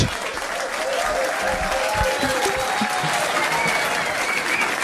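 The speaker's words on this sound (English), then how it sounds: "Give them a round of applause." A crowd at a pub trivia quiz claps steadily throughout, dense and sustained applause filling the room with a few voices mixed in.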